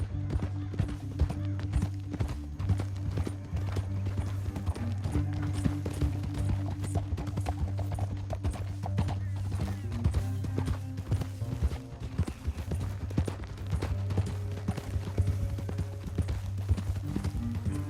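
Horses galloping through a canyon in the video game Red Dead Redemption 2, a continuous rapid drumming of hooves close by, layered over a low steady drone with scattered sharper clatters.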